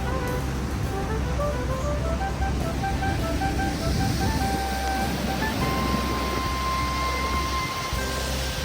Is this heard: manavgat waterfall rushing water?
yes